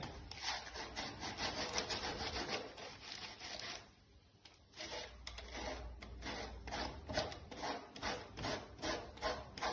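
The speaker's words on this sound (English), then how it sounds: "a piece of baking foil and a grater. Just put the baking foil on top." Citrus zest is grated on a grater covered with baking foil, producing quiet rhythmic rasping strokes in quick repeated bursts with a short pause midway.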